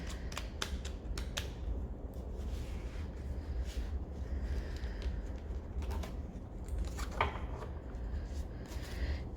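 Oracle cards are shuffled close by, with quick papery flicks and riffling clicks in bursts over a faint, low background hum.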